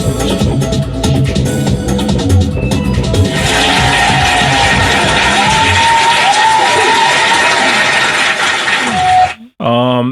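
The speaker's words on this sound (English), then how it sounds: "another round of applause for sure" Crowd cheering and applauding at an event in Ivory Coast, a dense, loud wall of claps and shouts running steadily for about nine seconds before cutting off abruptly, followed by a brief rising whistle-like tone.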